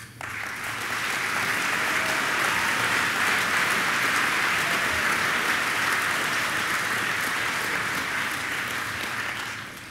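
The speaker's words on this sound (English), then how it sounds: "please stand and give them a round of applause" A school assembly audience gives a full, dense round of applause for student government, rising quickly, holding steady and loud for several seconds, then tapering at the end.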